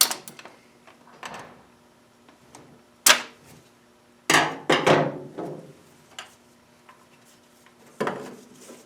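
Distributor cap being popped off a 1965 Mustang engine during an HEI distributor swap: a few sharp, close plastic clicks and snaps, with scattered quieter handling taps between them.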